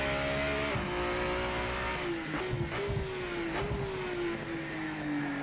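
An Aston Martin Valkyrie hypercar races in the Project Motor Racing sim with a loud, steady engine drone, its pitch dipping at gear changes and easing down, with brief tire squeal bursts in the middle.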